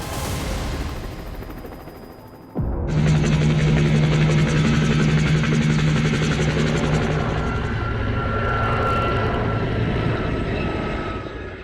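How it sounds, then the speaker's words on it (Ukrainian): Military helicopters on a raid to the Azovstal steelworks roar in suddenly after a quieter stretch, with a loud, steady thudding rotor and engine drone that holds at full strength. "Навіть коли я почув звук гелікоптерів, які підлітають"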